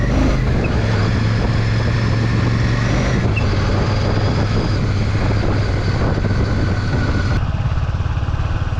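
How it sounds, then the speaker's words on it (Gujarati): A car drives across the open desert sand of the Rann of Kutch near the Pakistan border, its steady low engine rumble mixed with wind buffeting the microphone, loud and continuous throughout with no talk. "સાહેબ રણની રેતીમાં ગાડી જઈ રહી છે"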